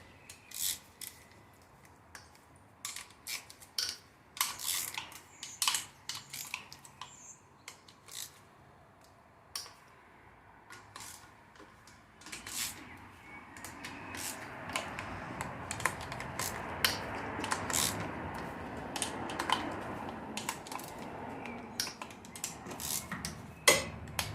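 A 3/8 socket on an extension loosens sump bolts on a Saab 9-3, making a long run of close, irregular metallic clicks and ratchet ticks that grow busier and scrapier toward the end.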